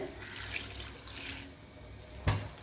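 Water runs and splashes steadily as it is poured over leafy greens, with a brief louder splash near the end.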